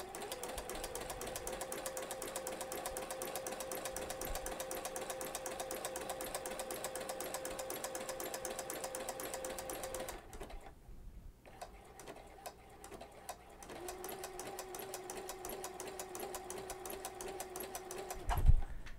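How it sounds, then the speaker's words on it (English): A sewing machine with a flower stitch foot sews a regular zigzag, a close, rapid, even mechanical whir that pauses briefly partway, resumes, and ends with a small knock. "So here we go with just a regular zigzag"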